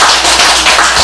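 At a citrus enzyme-making demonstration lecture, the audience gives a brief burst of loud, close hand clapping with a quick uneven rhythm.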